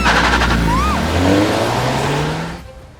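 A car engine roars close by as the vehicle pulls away hard, with a brief tire squeal and a rising rev that fades out toward the end.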